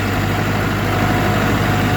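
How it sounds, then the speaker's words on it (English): A John Deere 450C bulldozer running in reverse, its heavy engine droning steadily and loudly up close with a faint thin whine riding beneath the rumble. "It's not very loud, but there's a small whine."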